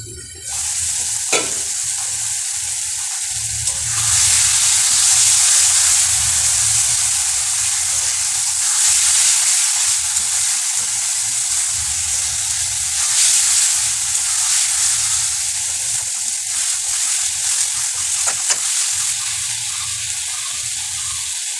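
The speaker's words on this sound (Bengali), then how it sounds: "মশলার সঙ্গে আলু মাছগুলো ভালো করে কষিয়ে নিয়েছি" Bam fish and potatoes fry with spices in a pan, giving a loud, continuous sizzle and hiss that swells and eases over time as the food is stirred, with occasional scrapes.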